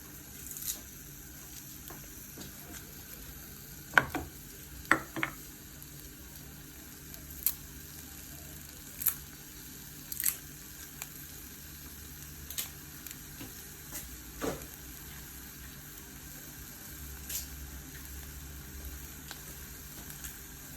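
Salt, chili, curry leaves and garlic fry in oil for a red amaranth dish, a soft, low sizzle running throughout with sparse sharp pops and ticks from the pan.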